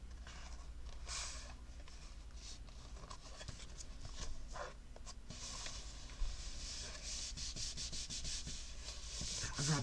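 A pyrographed wooden box is rubbed down by hand, giving soft, repeated scratchy rubbing strokes, faint and close, with occasional light knocks.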